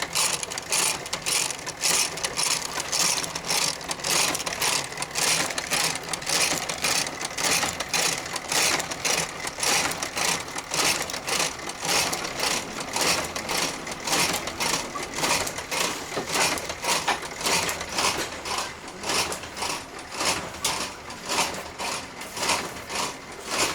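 Tatami stitching machine sewing the edge of a straw tatami mat in an artisan workshop: a fast, steady mechanical clatter of needle strokes, loud and close, running continuously without talk.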